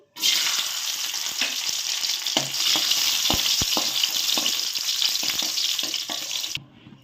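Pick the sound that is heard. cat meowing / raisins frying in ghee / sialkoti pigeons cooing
raisins frying in ghee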